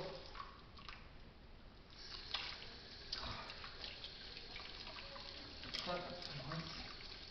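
A kitchen tap runs steadily while a knife is washed under it, a soft constant stream of water close by with small splashes, and a voice speaking quietly over it.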